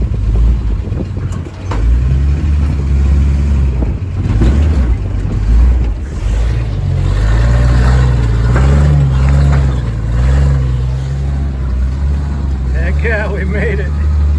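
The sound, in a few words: 1948 Chevy dump truck engine driving through a mud hole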